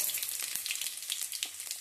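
Tempering seeds sizzle and pop in hot oil in a kadai, a steady bright crackle with scattered sharp spits throughout, close and alone with no talk.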